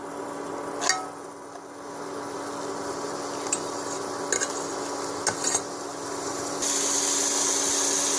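Grated tomato and carrot frying in butter hiss in a steady, even sizzle, with a few scattered clinks of a utensil stirring through the pan and a brighter, louder hiss near the end.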